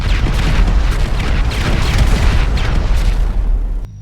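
A bomb detonation in the GTA 5 video game, a loud, sustained rumbling boom that fills the whole clip with dense low roar and stops abruptly near the end.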